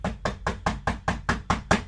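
Someone knocks on a studio door in a fast, even run of eight firm raps, close and clear with no voices.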